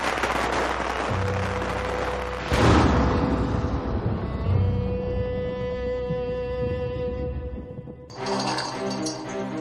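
Fireworks crackle and boom in repeated bursts, with sharp bangs and sizzling trails, loud and continuous throughout.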